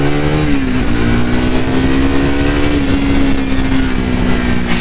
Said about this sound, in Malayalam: സെക്കൻഡ് ഗിയറിലൊക്കെ വണ്ടി ഈസി പൊക്കോളും.